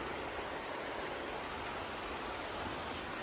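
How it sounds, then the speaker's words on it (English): A creek flows beside a riverside campsite in New Hampshire. Its rushing noise is broad and constant, like hiss, and stays steady and fairly soft from start to finish with no voices. "Hopefully you can hear me over the sound of the creek"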